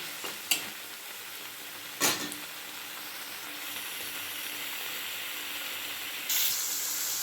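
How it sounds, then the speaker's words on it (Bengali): Spice paste and chopped tomato frying in oil for a vegetarian cabbage dish, with a soft steady sizzle, a couple of sharp spatula scrapes and a burst of hissing near the end, no talking. "খুব ভালোভাবে কষিয়ে নিতে হবে যতটা সময় পর্যন্ত মশলার গা থেকে তেলটা না ছাড়ে।"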